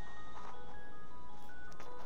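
A Game Boy Micro's small speaker plays thin, beeping chiptune video game tones. They sit faintly over a heavy hiss of room noise, with a few short blips scattered through.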